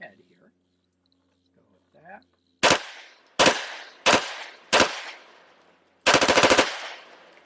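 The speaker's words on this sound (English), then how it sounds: "This is the modern incarnation of the briefcase gun. It is an MP5K" An MP5K with no stock, built into a briefcase, fires five loud bursts in quick succession: four short ones followed by a longer rattling burst, close by, with faint murmuring voices before the shooting starts.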